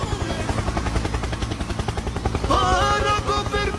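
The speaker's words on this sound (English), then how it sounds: "Helicopter, helicopter." A helicopter's rotor chops steadily and loudly throughout, with a rising whine joining in during the last second.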